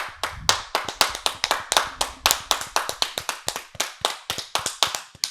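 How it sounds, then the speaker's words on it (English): A few people clapping hands in a small room during a movie podcast, a steady run of sharp, close claps with a quick, slightly uneven rhythm, no talking over them. "Claps for that. Claps for it."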